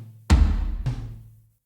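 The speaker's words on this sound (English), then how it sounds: "the only other thing going on in the actual build is these 3 tom hits" Tom drums strike in a short sequence, deep, resonant thuds played close and loud that decay into silence, with no talking.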